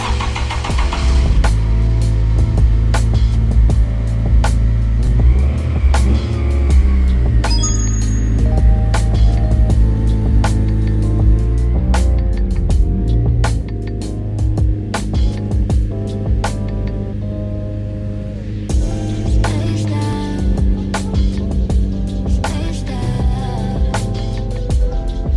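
Honda FD2 Civic engine idling steadily after a start, loud and close, with a deep continuous rumble and some knocking-like texture throughout and no talking.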